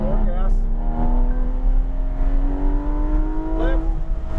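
A Porsche 911 GT3 RS accelerates around the Autobahn Country Club race track, its engine note rising steadily in pitch as it pulls through the gears, loud and continuous beneath an instructor's coaching voice.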